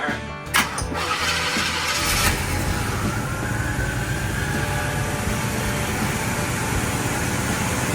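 A 1955 truck engine cranks and catches, then settles into a steady, rumbling idle that carries on loudly without a break.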